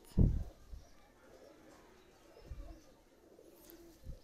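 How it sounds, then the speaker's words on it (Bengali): A young Pakistani high flyer pigeon of the Sakib bloodline gives faint, low cooing in a quiet space, broken by a few soft thumps of movement or handling. "সাকিব ব্লাড লাইনের কবুতর।"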